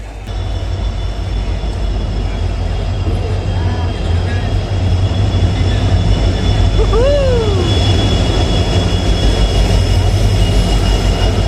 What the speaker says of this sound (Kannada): ಫೈನಲಿ ಬಂತ್ರಿ ನಮ್ಮ ಟ್ರೈನ್ ಕಾಣಿಸ್ಬೋದು ನಿಮ್ಗೆ ಇಲ್ಲಿ